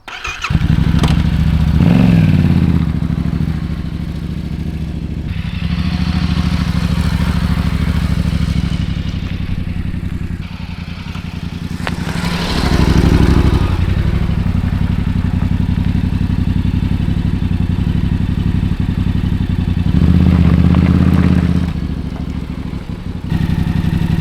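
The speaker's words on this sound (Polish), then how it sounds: "wydobywa to fajne dźwięki, te, to mruczenie tenery" A Yamaha Tenere 700 motorcycle engine rumbles nearby at idle, swelling with a few throttle blips and settling back to a steady throb.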